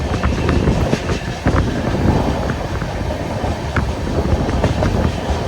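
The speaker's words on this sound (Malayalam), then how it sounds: "ബൈ ട്രെയിനിൽ അയക്കുന്നത് ഈ NMG ഗുഡ്സ് ട്രെയിനിൽ അയക്കുന്നത്." An NMG goods train rolls past close by, with a loud, steady rumble of wagons and a rhythmic clickety-clack of wheels over rail joints.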